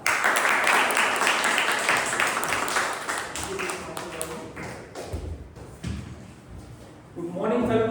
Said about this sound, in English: Let's welcome with a thunderous round of applause the very talented, the very funny Toastmaster Amitabh.